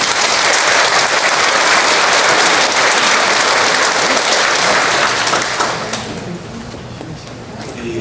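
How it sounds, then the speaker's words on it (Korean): Loud applause of thanks from a church congregation at a revival meeting, a thick, sustained roar of many hands that fades to a quieter patter over the last couple of seconds. "감사하는 박수 한번 해드리겠습니다"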